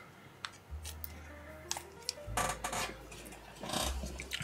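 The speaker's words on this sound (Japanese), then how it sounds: "これチョキチョキします" Scissors snip through jelly-like material in a homemade food-sample craft project, giving a few short crisp cuts and scraping rubs at close range, alone without speech.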